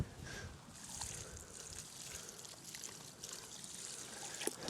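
Water from a bucket trickles and splashes onto freshly planted garden plants, a soft, faint pour with small fluctuations that continues throughout.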